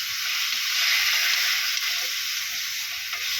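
Bottle gourd and pork ribs sautéing in a hot pan give off a steady, close sizzle with faint stirring ticks underneath. No voices are heard.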